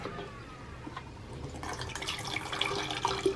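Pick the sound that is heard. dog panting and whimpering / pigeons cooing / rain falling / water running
water running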